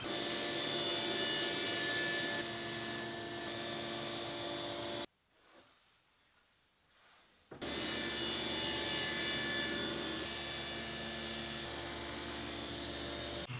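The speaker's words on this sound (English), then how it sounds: "I'm going to make a dado, one on each side of the drill press table, for some T-track" Table saw fitted with a stacked dado blade cuts a dado into MDF for a drill press table, a loud sustained whining cut that stops briefly into a quieter spin-down, then a second long cut resumes.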